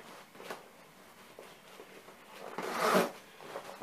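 A zip is drawn along a rucksack side pouch close by, soft rasping pulls that build into one louder, longer zip near the end.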